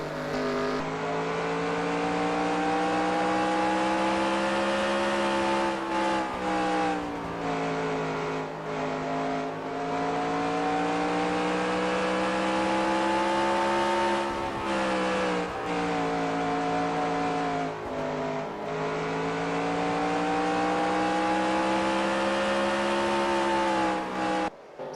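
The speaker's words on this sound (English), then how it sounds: "Listen to how they traverse their way around this dirt track." Race cars in a Superstar Racing Experience event at Knoxville lap a dirt track, their engines a loud, unbroken droning whine that swells and dips in pitch as they work the throttle through the corners.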